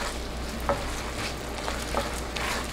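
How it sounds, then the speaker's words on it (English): Samyang hot chicken ramen is stirred with its seasoning powder and gives a steady, close sizzle-like hiss with a couple of faint utensil clicks, and no talk. "And then, the powder. Gotta stir this up."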